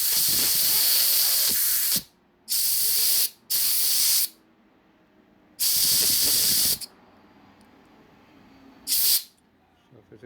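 Compressed air blasts out a 1988 Harley FXR motorcycle lifter in sharp hissing bursts, five loud sprays of a second or so each separated by brief quiet gaps, close to the listener with no talk.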